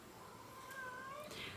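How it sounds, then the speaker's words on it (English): A house cat meows in the background of a quiet room, one faint drawn-out meow with a rising, wavering pitch that ends in a brief higher cry. "my cat is being chatty in the background"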